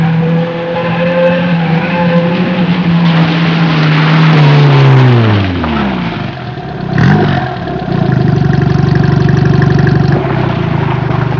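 A 1974 Liban Syrie Rallye car with a damaged exhaust pipe, suspension and engine mount: the engine winds down from a loud rev, then settles into a loud, rough, steady idle close by.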